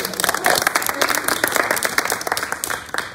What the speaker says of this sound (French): Je vous prie de l'applaudir, s'il vous plaît, pour l'encourager.